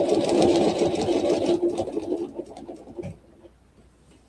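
Longarm quilting machine stitching a Baptist fan panel with a ruler, a loud rapid mechanical whir that slows and stops, leaving a faint idle hum.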